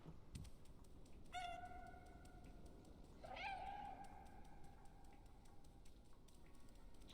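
A cat in the video game Stray meows twice, a short mewing call followed a couple of seconds later by a longer rising one, both clear over a quiet background hum.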